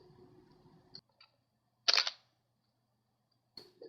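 An SLR camera with a 17-85mm lens at 85mm fires its shutter for an exposure: one sharp, close mechanical click-clack, set between quieter handling clicks in a near-silent room.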